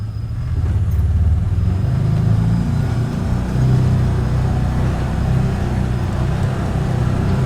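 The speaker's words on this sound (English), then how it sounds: "You're gonna have to 4-wheel drive here." Four-wheel-drive vehicle ploughing through snow drifts near a fence line, a steady close engine drone with rumbling, crunching texture throughout, no talk.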